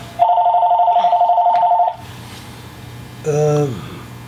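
A telephone rings with a rapid warbling trill for about two seconds and then stops, followed a moment later by a brief electronic chirp from the phone.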